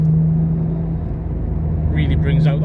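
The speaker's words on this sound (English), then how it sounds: "the exhaust system on this is a, I think it's a HKS Hypermax." A Nissan straight-six car engine with an HKS Hypermax aftermarket exhaust idles with a deep, steady exhaust rumble and low hum, close by, with a voice coming in near the end.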